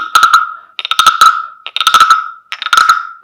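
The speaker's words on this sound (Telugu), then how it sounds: "తోడు సౌండ్ వస్తుంది వానలు వస్తే కప్పలు వస్తాయి చాలా కప్పలు వస్తాయి కదా" A carved wooden frog figurine is scraped along its ridged back, giving four loud rasping croaks in a steady rhythm, each a quick run of clicks, with no talking.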